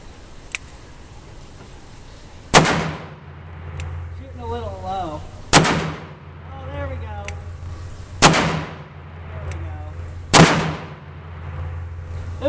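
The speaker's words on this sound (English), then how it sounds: "I'm going to shoot my last 4 rounds," Four heavy S&W 500 Magnum revolver shots boom out at a steady spacing of about two to three seconds, each a sharp, loud blast with a ringing tail, while someone talks quietly in between.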